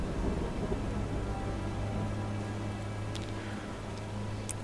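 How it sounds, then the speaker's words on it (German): A thunderstorm in the video game Silent Hunter 5 gives steady rain hiss over a low rumble of thunder, faint and continuous, with a few sharp crackles near the end and no talking. "Oh, es gibt schon ein Gewitter."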